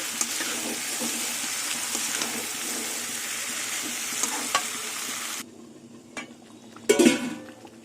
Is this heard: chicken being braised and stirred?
yes